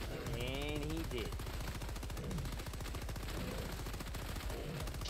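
Rapid automatic gunfire rattles almost continuously in Helldivers 2, dense repeated shots at a fast steady rhythm, with a few whistling and tonal game effects layered in.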